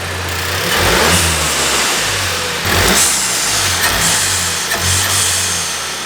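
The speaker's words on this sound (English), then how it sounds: "give it a little rev" A VW Golf Alltrack with a blow-off valve spacer revs in repeated bursts: the engine climbs and drops three or four times, each rev rising from a steady idle and releasing with a short hiss, loud and close.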